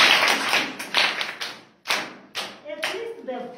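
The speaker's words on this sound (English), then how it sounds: "Let me clap hands for him." A class of students clapping hands for a classmate, a few uneven bursts of close claps with pauses between, a voice mixed in toward the end.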